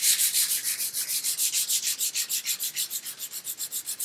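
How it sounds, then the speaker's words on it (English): Close, rapid back-and-forth strokes of 220 grit sandpaper across cured wood grain filler, a steady rhythmic scratching of about five passes per second with no other sound. "I'm just going to sand the surface with some 220 grit sandpaper"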